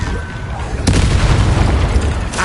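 A spell-cast explosion in a fantasy video game bursts in at once as a loud, broad boom, then rumbles on steadily for about a second and a half before a second burst near the end.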